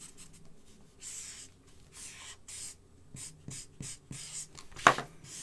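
Felt-tip marker strokes rasp across paper while coloring a shoe sketch: quick, scratchy swipes in short bursts with brief gaps and one sharper squeak near the end, close and quiet.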